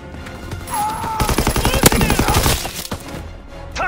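Rapid bursts of automatic gunfire crackle in Call of Duty WWII multiplayer, loud and close, rattling for a couple of seconds among single shots and game effects.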